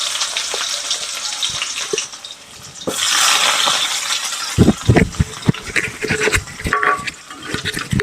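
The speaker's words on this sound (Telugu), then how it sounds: "నూనె వేడయ్యాక కొన్ని ఆవాలు, జీలకర్ర, మనం కట్ చేసి పెట్టుకున్న ఆనియన్స్ వేసుకోవాలి." Mustard seeds, cumin and chopped onions dropped into hot oil for a gokarakaya curry, a bright hiss swelling into loud crackling sizzle with sharp popping and spatula knocks close by.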